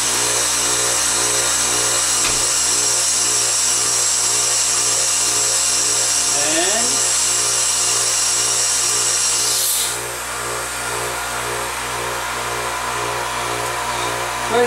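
A wood lathe spins an 8-inch walnut bowl held on a vacuum chuck, a loud continuous mechanical hum and whir that shifts pitch as the speed changes, with no voices.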